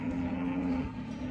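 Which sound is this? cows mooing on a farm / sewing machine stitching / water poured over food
cows mooing on a farm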